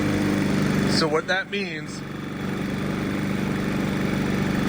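Predator 3500 generator engine running at a steady drone after a surging problem, a continuous hum with a mechanical buzz, and someone briefly talking over it.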